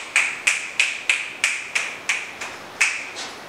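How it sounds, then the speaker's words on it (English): A celebratory fireworks clap during a beginner tap-dance art session: about nine sharp, evenly spaced hand claps or snaps, close and crisp, each with a short decay, with no voices. "Let's do another fireworks clap to celebrate"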